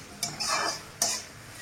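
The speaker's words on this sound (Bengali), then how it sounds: "এভাবে ভালো করে নেড়ে নেড়ে ভাজতে হবে।" Onions being stirred and fried in white oil in a pan, with two sharp scraping strokes of a utensil against the metal and a light sizzle between them, close and fairly quiet.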